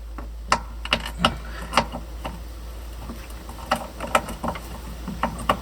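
Unscrewing the brake servo on a Datsun 260Z with a 12mm fitting: sharp metallic clicks and ticks of a ratchet or wrench come in irregular bursts, close and fairly loud, with a low steady hum underneath.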